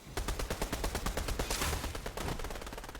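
Gunfire in the video game Fortnite comes as a rapid run of evenly spaced, punchy shots that barely pause, loud and close, with no voices over it.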